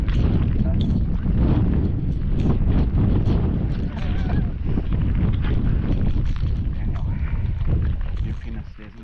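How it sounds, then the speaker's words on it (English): Loud, constant wind buffeting the microphone on Goatfell, Isle of Arran, Scotland, a heavy low roar with gusts throughout; voices talk faintly beneath it. "Super windy up there."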